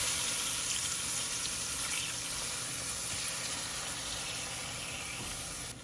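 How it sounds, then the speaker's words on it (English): Vegetable stock poured over corned beef in a pan before roasting, a steady liquid splash and trickle that runs without a break and stays fairly close. "Before I stick it in the oven, I'm also gonna add a little bit of vegetable stock."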